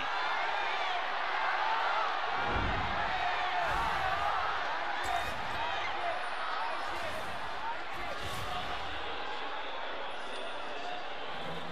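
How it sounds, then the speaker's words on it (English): IG fans at the LPL finals chant rhythmically as a massive arena crowd, steady loud cheering punctuated by thumping clap-sticks, with a commentator talking over the din. "Crowd becoming more and more passionate every time they chant."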